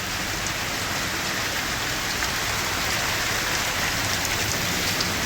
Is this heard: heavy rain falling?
yes